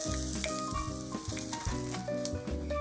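Pork cutlet (tonkatsu) deep-frying in oil, a steady fine sizzle running beneath louder melodic background music.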